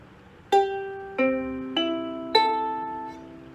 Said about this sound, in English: first things first is you want to make sure that your ukulele is properly tuned.